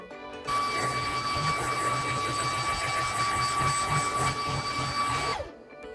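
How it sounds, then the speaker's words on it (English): Steady whirring motor of a MOOSOO K23 Pro cordless vacuum cleaning carpeted stairs close by for several seconds, with a high whine and faint brushing scrapes, no talk. "Another tough area to always vacuum is stairs."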